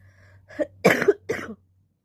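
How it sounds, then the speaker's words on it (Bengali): Three harsh coughs from someone ill and short of breath come in quick succession, close and loud, then silence. "কাশিও হচ্ছে প্রচণ্ড।"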